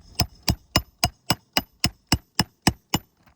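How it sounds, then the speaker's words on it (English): A hammer striking asphalt roofing shingles while nailing, knocking loose granules: eleven sharp, evenly spaced blows close up, about one every quarter second, with no talk. "Every time I swing this hammer, there is significant granule loss."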